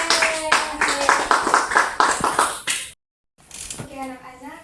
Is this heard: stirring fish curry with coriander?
no